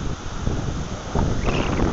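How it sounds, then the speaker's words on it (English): Wind from Hurricane Irene, August 2011, buffets the microphone in a steady rush that swells stronger partway through, a loud, close roar with no voices. "We had a really huge gust come through here a little while ago."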